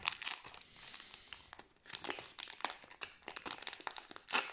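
Yu-Gi-Oh! Phantom Nightmare booster packs being torn open, close crinkling and ripping of foil wrappers in repeated bursts with brief pauses between.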